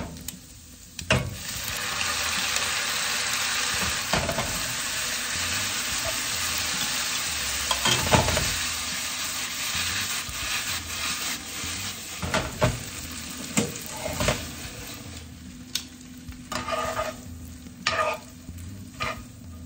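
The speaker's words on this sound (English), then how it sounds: "We stirred up the noodles, got them all mixed in with this nice fatty pancetta." Spaghetti noodles being stirred through fatty pancetta in a pan with the heat off, giving a steady wet scraping and clattering with soft residual sizzle and occasional sharper utensil knocks against the pan.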